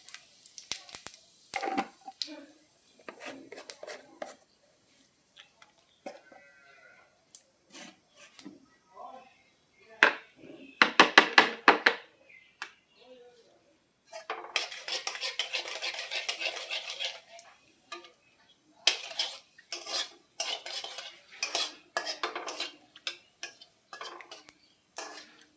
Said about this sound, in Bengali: এখন ওই তেলে দিয়ে দিব জিরা ফোড়ন